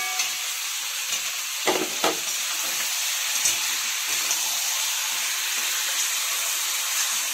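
Potatoes fry in a pan for a chicken dish, giving a constant bright sizzle and hiss with a couple of soft clunks near the start and no voices.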